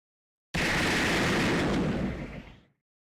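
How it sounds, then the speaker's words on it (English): A single heavy cannon blast from the Fate/Grand Order video game erupts suddenly after a moment of silence, a loud, broad boom that rumbles on and fades out over about two seconds. "No, it's cannon fire."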